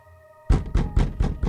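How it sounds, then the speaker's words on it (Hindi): A knocking sound effect on a door: after a faint hum, five quick, firm, evenly spaced thuds. "वेट, किसी ने दरवाजे पर नॉक किया।"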